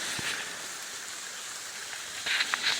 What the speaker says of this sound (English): it's still raining kind of, but the majority of the storm has waned at this point